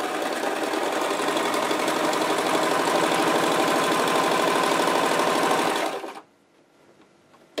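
A sewing machine stitches a test seam on knit fabric after rethreading, running at a steady, fast, even rhythm for about six seconds before stopping into near silence, with a small click at the end.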